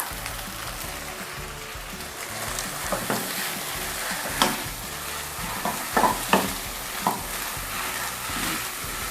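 Blanched, well-drained kale hits a hot pan of pad see ew wide rice noodles, with a steady close sizzle under continuous stirring and several sharp scraping clinks of the spatula against the pan.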